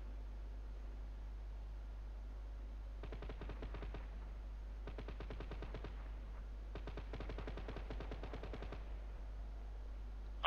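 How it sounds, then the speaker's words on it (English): Distant video game gunfire with rapid bursts of machine-gun shots in three clusters, faint under steady low background hum, from enemy vehicles being engaged during a military operation. "if you hear distant gunshots and explosions"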